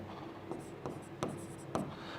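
Chalk or marker writing on a board during a chemistry lecture makes short, close, moderately quiet scratching strokes in an irregular rhythm, about four or five distinct bursts over a soft background.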